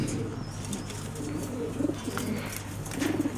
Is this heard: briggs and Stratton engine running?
no